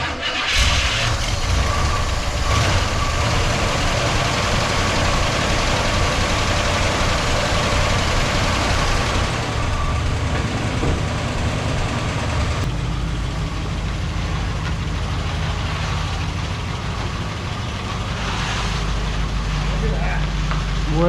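A fire-damaged, long-abandoned Cadillac DeVille engine cranks, catches and keeps running, settling into a rough, loud idle close by, while people talk over it.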